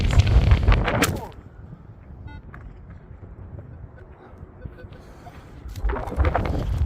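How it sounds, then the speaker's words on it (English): Gusts of wind buffet a microphone with heavy low rumbling, easing to a quieter hiss in the middle before battering again at the end. "As if to prove how windy it is"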